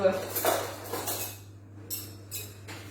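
A small metal baking sheet is unfolded and handled in a kitchen while making Comté gougères. Several metallic clanks and rattles come in short bursts over a low steady hum.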